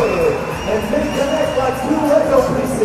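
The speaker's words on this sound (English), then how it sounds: "The crowd love it." Crowd cheering and shouting fills a 3x3 basketball arena during a tight France versus Netherlands game, a steady loud roar with swelling peaks and no pauses.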